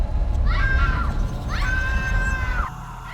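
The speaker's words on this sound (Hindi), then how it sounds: "मानसी की मां की चीख ने घर के हर कोने को झकझोरा।" A woman's high scream rings out twice in a Hindi animated horror story, first a short cry, then a longer sustained shriek over a constant low rumble.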